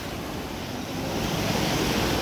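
Floodwater of the Purna river in full spate rushes through its channel, a loud, steady broadband roar of churning water with wind buffeting the microphone, continuous and close, no voices.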